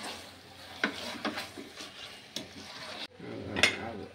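A spoon stirs ground coriander masala powder into chicken curry frying in a pot, with scraping taps against the pan at irregular intervals over a soft sizzle, close and clear, with no talking.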